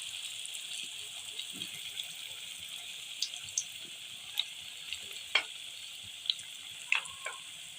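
Moong dal pakoras fry in hot oil with a steady, bright sizzle throughout, broken by occasional sharp pops and small clinks as the large fritters cook, close by and without talk.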